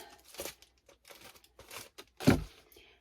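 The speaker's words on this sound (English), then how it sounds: "every book is going to go into a plastic bag before it goes on the shelf" Thin plastic bag crinkling and rustling as a book is slipped inside, a few soft bursts building to one louder, close crackle near the end.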